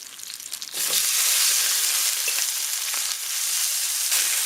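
Chicken wings fry in oil in a pan, the hiss jumping into a loud, dense, continuous sizzle with faint crackles, close and with no voices.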